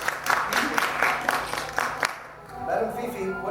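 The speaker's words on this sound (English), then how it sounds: "A nice round of applause for Phineas." An audience at a Dickens on the Strand street show in Texas claps briefly for Phineas, a six-legged performer, with a burst of scattered handclaps that fades after about two seconds as a voice carries on.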